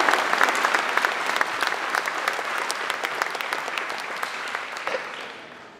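A hall audience claps warmly during a mayor's 2023 New Year address: thick, continuous applause that is loudest at the start and gradually fades away toward the end.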